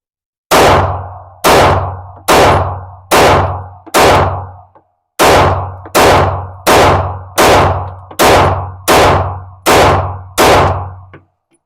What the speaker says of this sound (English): We are going to be shooting at that top 7 that I have circled.